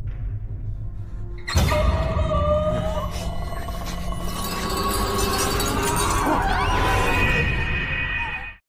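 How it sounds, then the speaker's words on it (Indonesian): A lamp shatters in a dark room during a horror film scene. An abrupt loud crash is followed by a long, ringing, eerie tonal wash with sliding pitches that holds steady and then cuts off. "lampu yang ada di sana pecah mengenai wajah Giho"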